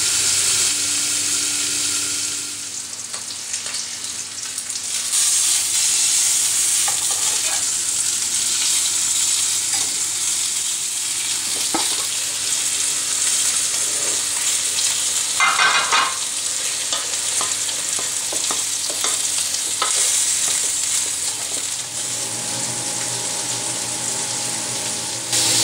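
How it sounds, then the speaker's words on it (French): A seasoned pork chop (côte de porc) cooks on low heat in a frying pan, giving a loud, constant sizzle and hiss that holds steady throughout with only slight shifts and a few faint clinks, and no voices. "vous la faites cuire à feu doux"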